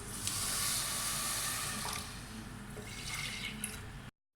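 Water pours into a kadhai holding two cups of sugar for syrup, a continuous hissing splash that eases midway and ends abruptly, close and alone without talk.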